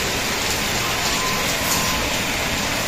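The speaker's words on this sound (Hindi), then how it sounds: "तो गाइस अभी बारिश हो रही है बहुत तेज" Heavy rain pours steadily outside a shop, a dense, continuous hiss that fills the whole clip with no breaks and no voices.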